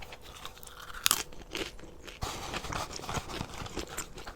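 Crunchy chewing of McDonald's burgers, fries and nuggets, heard up close as repeated crisp bites and mouth sounds with a sharp crunch near the start, quiet and without talk.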